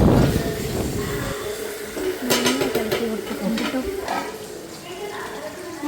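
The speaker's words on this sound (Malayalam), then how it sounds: "ചിക്കൻ നന്നായിട്ട് അതിലേക്ക് ഇട്ടിട്ട് ഇളക്കുന്നുണ്ട്." Chicken pieces are stirred into curry masala in a pan, with a steady scraping and shuffling of spoon against the pan over a soft frying hiss. The sound is close and continuous.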